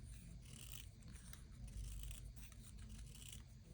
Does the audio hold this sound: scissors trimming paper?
yes